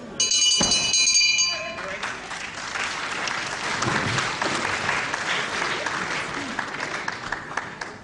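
Applause from the crowd at the Cliffs Pavilion, Westcliff-on-Sea, during a wrestling bout between Kaider Hassouni and Johnny Saint, a dense steady clapping that fills the hall throughout, with a brief electronic tone at the start.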